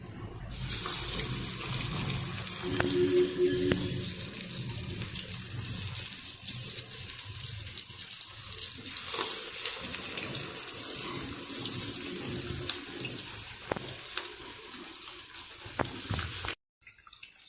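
Banana flower vadas frying in hot oil give a loud, steady, close sizzle that runs without a break for about sixteen seconds and then cuts off abruptly. No one speaks.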